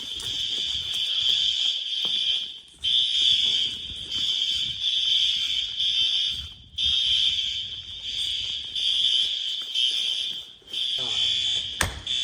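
A school fire alarm sounds loudly and continuously, its horns out of sync so the blasts overlap and smear together in an uneven pulsing tone, with brief dips and faint voices in the background.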